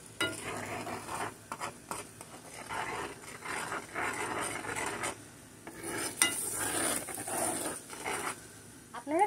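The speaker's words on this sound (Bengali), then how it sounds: "আমি দুধটাকে একটু নেড়ে নিচ্ছি।" Spoiled, split milk with sugar is stirred in a pan, with repeated scraping and swishing strokes that come and go over several seconds, close and moderately loud, a faint sizzle under it.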